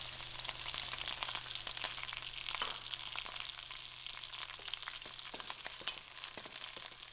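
Onions browning in oil with a cinnamon stick, bay leaf and curry leaf for a brown lentil biryani dhal give a steady close sizzle with small crackles and pops throughout, and no voices.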